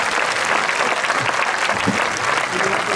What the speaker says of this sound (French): Oui on peut l'applaudir, c'est le vrai.